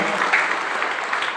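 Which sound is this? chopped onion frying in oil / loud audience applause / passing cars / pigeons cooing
loud audience applause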